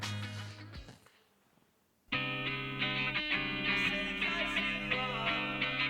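A song plays back through OneOdio Focus A6 headphones on a dummy head, close and full after a brief near-silent gap, a dense distorted mix with a steady beat and sustained tones.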